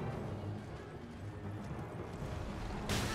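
Horse hooves clip-clop in the video game Elden Ring, a soft, steady rhythmic trotting under a low rumbling game soundscape, with a sharp burst at the very end.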